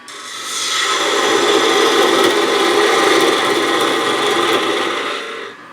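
A woodturning gouge rides the bevel through spinning wood on a lathe, throwing shavings; a steady, loud rasping, scraping cut runs continuously for about five seconds before trailing off.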